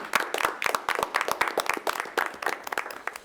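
An audience at a school board meeting applauds students who received trade certificates. The dense, irregular clapping comes from a room full of people and stays fairly loud for a few seconds.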